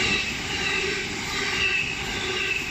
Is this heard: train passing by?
yes